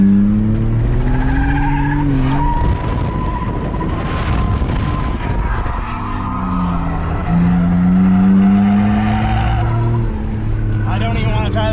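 BMW E46 drift wagon sliding on a dry track, loud engine revving with long tyre squeals and skids rising and falling in pitch, while people talk over it throughout.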